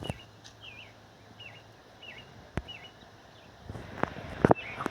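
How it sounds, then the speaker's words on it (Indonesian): Morning birdsong from the video game Eversoul: a few short, repeated chirps at a steady pace, fairly faint against a quiet background, followed by a couple of sharper clicks and taps near the end. "aku bisa mendengar suara burung-burung"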